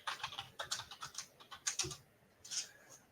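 Typing on a computer keyboard: a short burst of quick, close key clicks in an uneven rhythm, with a brief pause before a final few taps.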